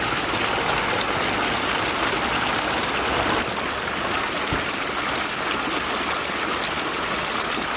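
Water flows steadily at the Wanaka natural spring during refilling, a continuous loud rushing and splashing wash, nearby and unbroken, with no voices.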